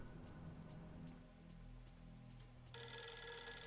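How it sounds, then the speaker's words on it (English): A telephone ringing in the horror video game Fatal Frame 3, heard as a faint trill that comes in near the end and stays steady over a low ambient drone. "There's the phone."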